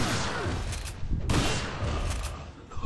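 Shotgun fire in Resident Evil 4 comes as several loud booming blasts in quick succession, with one sharp report standing out above the rest.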